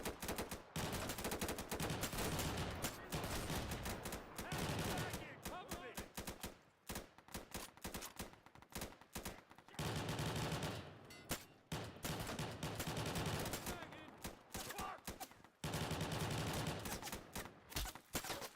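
Bursts of automatic gunfire from a first-person shooter video game, with dense rapid shots in several loud clusters broken by short quieter gaps.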